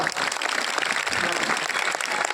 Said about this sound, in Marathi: टाळ्या कमी वाजवल्या तुम्ही, जोरात वाजवा